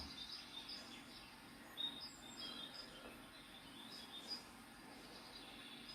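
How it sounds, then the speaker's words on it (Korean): Faint, sparse bird chirps and short calls over a soft, steady outdoor background hum, with a couple of slightly louder notes. "맑고 고운 새소리를 들을 수 있음에 감사하며"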